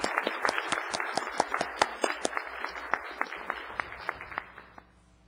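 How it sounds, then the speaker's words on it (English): A small group applauding sponsors at a Victorville city council meeting. Sharp, distinct claps form a quick, rhythmic patter that gradually thins and fades toward the end. "let's give them a warm round of applause"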